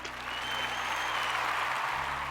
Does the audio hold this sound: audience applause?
yes